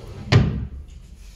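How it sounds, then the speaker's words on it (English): A bedside table drawer in a hotel room opens with a single sharp knock, then a short scraping slide that fades away. It is close and fairly loud, with no voices. "if you open the hotel drawer like this"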